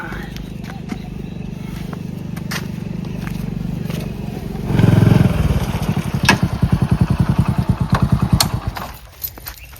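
A motorcycle engine idles with a low hum, then revs up and settles into a rapid, throaty putter close by before cutting off near the end; people talk over it.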